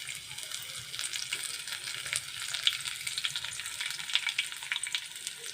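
Chopped onion goes into oil where garlic is already browning, producing a bright, continuous crackling sizzle close up, fairly quiet and steady, with faint scraping.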